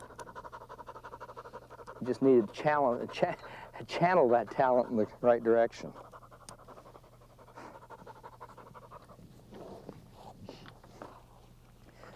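A small dog pants quickly and rhythmically close by through the whole stretch, while someone speaks over the middle part.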